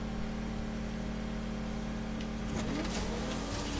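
A Bugatti Veyron's engine in a Transformers video game gives a steady droning hum under a constant tone, which shifts slightly near the end as the car accelerates, with no talking.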